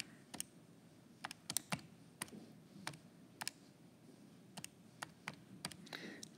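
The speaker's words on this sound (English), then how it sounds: "So I'm going to type all that in on the calculator." Keys tapped on a calculator while entering numbers, a sparse series of faint, sharp clicks at uneven intervals over a quiet background.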